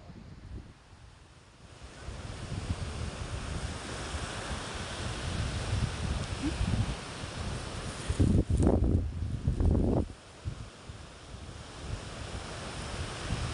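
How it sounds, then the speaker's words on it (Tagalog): Strong seaside wind roars and buffets the microphone at a fishing shore with boats kept ashore, with surf washing underneath and a louder gusty burst about two-thirds through; no one speaks. "Malakas kasi ang hangin kaya walang nakapalaot."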